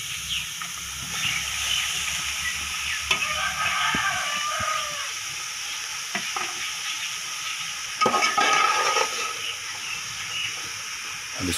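Chicken filling for egg rolls is stir-fried. A loud, continuous hissing sizzle runs throughout, with scraping stirs and brief clatters of a utensil against the pan, and a denser burst of sizzling near the end.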